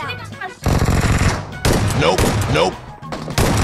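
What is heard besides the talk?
gunfire in video game PUBG Mobile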